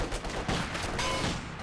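Continuous rattling gunfire during a WWII tank battle in a video game, dense overlapping shots and bursts at loud, steady volume throughout.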